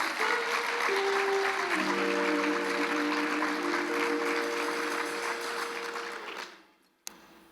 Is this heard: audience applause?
yes